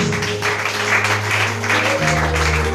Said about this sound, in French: Acclamons encore Jésus